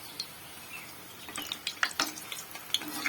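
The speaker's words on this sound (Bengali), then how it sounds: "এটি আমার পুরোপুরি ভাজা" Egg and potato chops fry in hot oil until fully done, giving a soft, uneven crackle of small pops and sizzles that is fairly faint and close.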